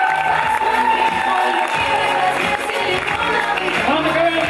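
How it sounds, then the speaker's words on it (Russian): A KVN comedy show audience in an open league hall applauds and cheers, a steady dense wash of clapping and whoops from a large crowd, with a host's voice speaking over it. "Ваши аплодисменты, друзья."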